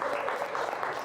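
A short burst of clapping from a small group, fairly even and moderately close, with no voices over it.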